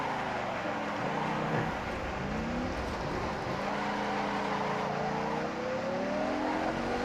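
A race car driven in the Assetto Corsa driving game, its engine note climbing and falling through gear changes in a continuous steady drone with faint tire noise, no voices.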